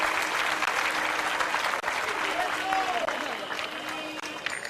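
Crowd applause swells across a pétanque final in Marseille, a dense wash of clapping heard under a commentator's voice, steady and fairly loud throughout.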